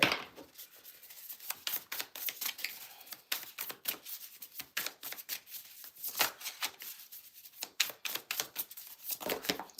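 A stack of playing cards is separated and shuffled by hand, producing dense, irregular papery riffles and slaps that come close and fairly loud across the whole stretch, with no talking.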